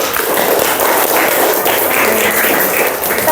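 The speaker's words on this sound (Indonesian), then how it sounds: "Ya, tepuk tangan buat kita semuanya" Classroom applause as students clap for their peers during a religious-education lesson, a dense, steady wash of many hands close by that holds for about three seconds.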